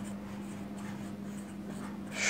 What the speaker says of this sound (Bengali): এটা ডিটেলসটা একটু লিখি